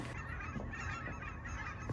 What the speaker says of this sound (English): Let's go fight the geese.